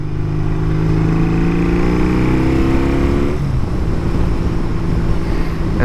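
BMW R80 motorcycle fitted with a Hoske exhaust, recorded while riding: a loud, steady engine drone with rising and falling rev pitch as the bike accelerates, then a shift to a rougher, lower rumble partway through.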